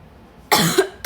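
Someone coughs, reacting to fumes from chili sambal being cooked, giving a sharp burst followed by a second cough about half a second later in an otherwise quiet room.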